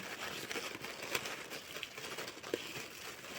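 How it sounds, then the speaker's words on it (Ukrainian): A plastic bag holding pepper seeds crinkles softly and continuously as it is twisted and tied in a knot, with a few sharper rustles close by and no talking. "І пакет зав'язую у кругу, щоб тут ніде не було дірочки."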